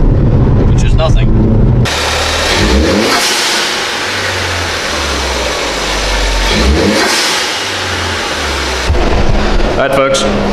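A 2014 Ford Focus with a Turbosmart 50/50 blow-off recirculating valve revs its engine, with a long stretch of loud, broad hissing rush and whooshing bursts over the running motor, heard close up.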